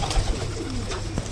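A medium-sized female village pigeon in Singair, Manikganj gives a brief, soft, low coo close by, heard alone without talk over light background noise.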